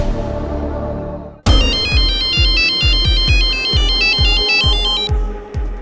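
A telephone ringtone bursts in after a quiet musical lead-in, playing a bright repeating electronic melody loudly and continuously over rhythmic low thuds for several seconds.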